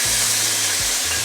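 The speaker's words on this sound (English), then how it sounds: "So first of all, we want to saute all the fresh" Fresh ingredients sizzle steadily in hot oil for a prawn curry, a loud, continuous close frying hiss with a low hum underneath.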